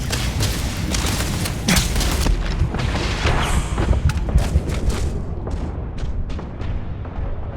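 Turret gunfire in the Starfield video game, a dense run of loud booming and cracking shots over a constant rumbling battle din, with the bursts thinning slightly toward the end.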